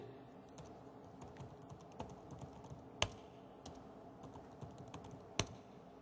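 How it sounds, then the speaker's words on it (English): Passwords typed on a computer keyboard during a software demo: quiet, quick runs of plastic key clicks with a couple of sharper keystrokes, no voices. "I keep typing the passwords because I'm not used to typing down"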